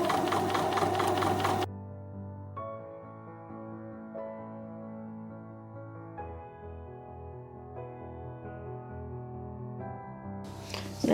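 A sewing machine runs steadily, stitching a seam down the left side of a Diamond Star quilt block, with a sustained mechanical hum that shifts slightly in pitch across several passes and a brief noisier burst at the start and end.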